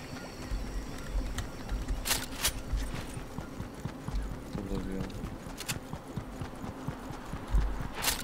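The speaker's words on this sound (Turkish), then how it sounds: "Orada ayak sesi duyuyorum." Footsteps in the video game Fortnite, a steady run of soft thudding steps under game ambience, with louder clicks and bursts scattered through.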